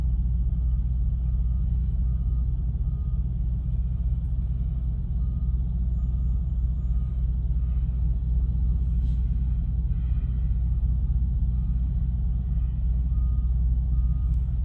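A truck backs in nearby with a steady low diesel rumble and faint intermittent beeps, continuous and moderately loud with no talk.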